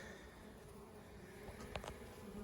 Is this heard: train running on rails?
no